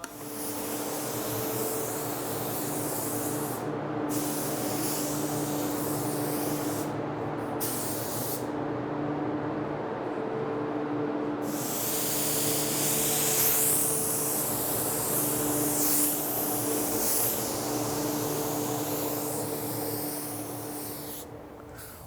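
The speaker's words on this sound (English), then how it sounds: "John, what do you think of that spray out of that silver sealer" House of Kolor silver sealer being sprayed in mist coats from a spray gun, a steady loud hiss of atomized paint that runs almost the whole time, with short breaks where the trigger is released between passes.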